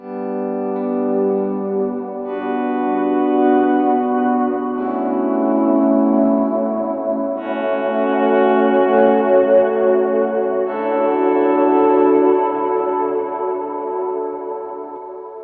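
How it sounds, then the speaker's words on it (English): Electric guitar swells through an L cap modulation pedal on a worship guitarist's pedalboard, slow layered chords blooming with chorus-like shimmer and echo, continuous and fairly loud, with no speech. "if I want a little bit more modulation and texture, I might kick on the L cap on top of those."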